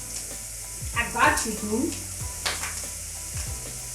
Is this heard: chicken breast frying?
yes